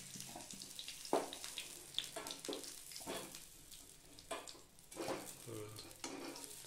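Fried potatoes are stirred and scooped out of hot oil into a small bowl, with quiet sizzling under a run of scraping and clinking spoon strokes against the pan, spaced irregularly and fairly close.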